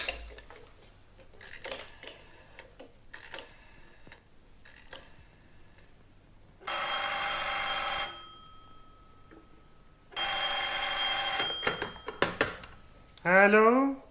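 Old-style telephone bell ringing in a French audiobook drama, two loud sustained bursts of electric ringing between quieter sounds and a voice, with a short vocal or tone flourish at the end.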